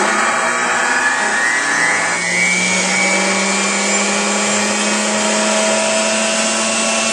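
Retsch ZM 100 ultra centrifugal grinding mill running at 14,000 RPM, a loud, steady high-pitched whirring hum that holds constant throughout with no pauses.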